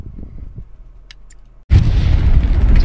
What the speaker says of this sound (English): Satchel charge on the tank.